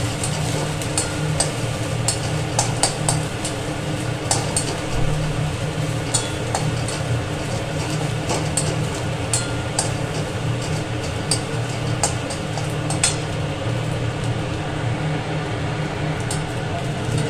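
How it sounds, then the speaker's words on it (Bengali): Grated coconut frying in a pan for a vegetarian Bengali dish, a continuous close sizzle with rhythmic scraping of a spatula stirring throughout, no talk. "নারকেলটা একটু ভাজা যায়।"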